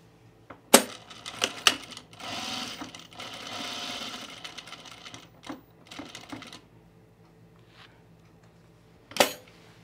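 A sewing machine stitches darts on men's chino pants, with a sustained run of motor whir in the middle and sharp clicks and clacks before and after, fairly close and alone without talk.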